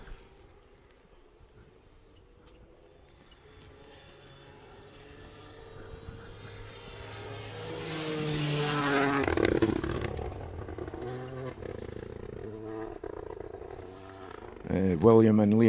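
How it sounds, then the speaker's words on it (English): A Toyota Yaris rally car approaches on a stage, engine rising from faint to a loud, close roar before easing off, with people talking throughout. "So that sounds like the first car on the way."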